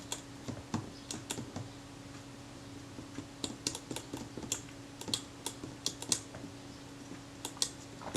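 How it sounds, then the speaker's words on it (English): A Kodak Retina II type 122 camera mechanism with free play in its movement gives a run of light, irregular clicks and ticks up close. The rattle is quiet and uneven, with no talk over it. "That rattling is just from the free play in the movement"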